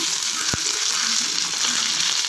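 Sliced ivy gourd (kovakkai) sautéing in a pan for poriyal gives a steady, close sizzle with a single sharp scrape or stir near the start and no voices.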